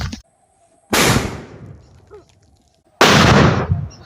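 Two sharp, loud blasts from a sutli bomb firecracker set off underground, each a sudden thump with a decaying rumble, separated by a quiet gap with a faint murmur.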